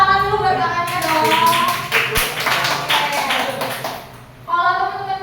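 A roomful of participants at an organizational skills training session clap for someone who answered correctly, a bright burst of handclaps lasting several seconds between stretches of a presenter speaking.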